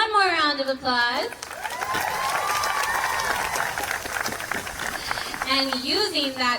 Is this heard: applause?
yes